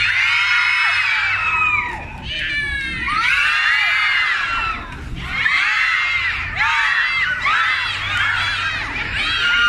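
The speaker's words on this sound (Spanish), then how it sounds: "Cuando me dé la media vuelta, todos me regalan un grito así." A live-show audience of adults and children shouts and screams together on cue in loud repeated bursts, each swelling and dropping off briefly before the crowd roars again.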